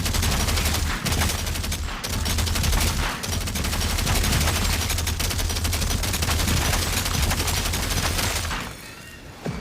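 Light machine gun firing in a video game, a loud sustained burst of rapid shots running almost without pause for several seconds before cutting off near the end.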